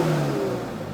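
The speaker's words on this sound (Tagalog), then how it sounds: "you hear that turbo whistle?" A turbocharged Subaru BRZ engine revving in a short burst, a loud, close mechanical drone with a high whining tone easing off after a brief peak, no talk.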